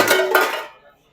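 Metal kitchen pots and utensils clink and clatter briefly as they are handled at a market stall, a close burst of bright rattling that fades within a second.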